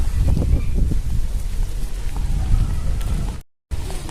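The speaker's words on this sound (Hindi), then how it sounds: "और देखो कैसी धूल भरी आंधी आ गई।" Loud, continuous roaring wind of a dust storm with gusty rumbling, close and unbroken, cutting off abruptly near the end.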